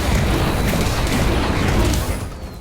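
Confringo spell explosion in the Harry Potter Magic Awakened video game: a dense, rumbling magical blast with a burst of crackle that fades out over a couple of seconds.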